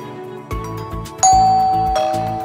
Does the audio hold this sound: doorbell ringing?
yes